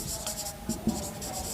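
Marker or chalk writing on a classroom board, a faint continuous scratching with a couple of light taps, heard alone and fairly quiet.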